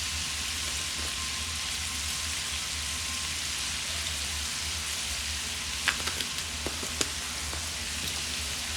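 Shrimp and sausage sauté in a pan with a dense, steady sizzle and hiss throughout, close and moderately loud. A few light clicks of a utensil come near the end, and no one speaks.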